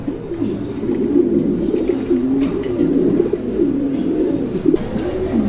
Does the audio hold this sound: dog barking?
no